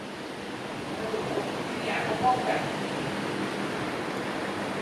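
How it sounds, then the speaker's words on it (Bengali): A thunderstorm brings heavy rain and wind, producing a steady broadband roar like surf. It stays constant throughout, with a brief louder swell in the middle and no clear speech. "ঝড়ের সঙ্গে বৃষ্টি।"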